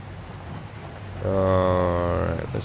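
Rain falls on a Missouri farm with cows outside by the barn, a steady soft hiss running throughout, joined midway by a loud droning tonal hum.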